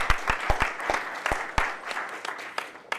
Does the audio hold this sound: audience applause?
yes